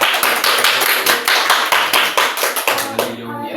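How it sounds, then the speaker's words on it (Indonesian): Classroom clapping for a student group at a community learning center in Cimahi, a steady burst of many hands close by that tapers off at the end. "Tepuk tangan untuk kelompok."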